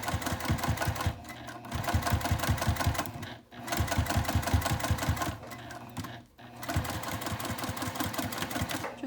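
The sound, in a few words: sewing machine top stitching fabric sling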